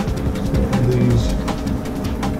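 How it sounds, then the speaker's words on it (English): Pigeons coo in the video game Soul Axiom, their low, rounded calls repeating steadily through a dense layer of in-game ambience, with a faint voice talking underneath. "Birds can fly through these walls."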